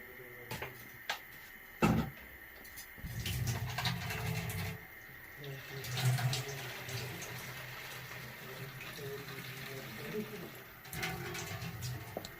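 Sweet potatoes washed under a running kitchen tap, water splashing and gurgling in bursts over a steady hiss, with clunks of handling and a voice talking at times.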